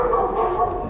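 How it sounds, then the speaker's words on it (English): A big dog barks at a front door during a food delivery, a close, steady run of yips and barks lasting under a second. "Big dog."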